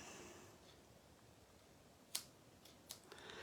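Paper being trimmed with scissors while making a handmade birthday card: two or three crisp, brief snips late on, faint against a quiet room.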